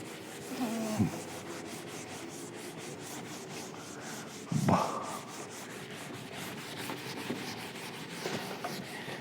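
Soft, quiet rubbing of an eraser over writing during a class, steady scratchy friction with two brief louder scrubs, close and faint, with no talking.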